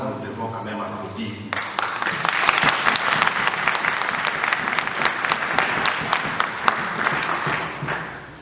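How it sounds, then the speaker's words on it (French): An audience at a human rights day event bursts into sustained applause, dense clapping rising suddenly and continuing steadily and loudly throughout, with a brief voice at the very start. "nous devons quand même applaudir"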